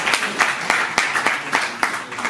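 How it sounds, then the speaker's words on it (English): A crowd at a Mumbai festival announcement event claps in a steady, rhythmic beat, with sharp claps about every quarter second at moderate loudness and no voices. "big round of applause for Harjeet ji"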